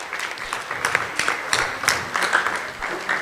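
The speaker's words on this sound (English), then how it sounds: "Let's give these guys a round of applause" An audience at a high school end-of-year awards ceremony claps, a moderate burst of uneven applause with individual hand claps audible throughout.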